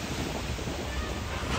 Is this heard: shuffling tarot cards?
no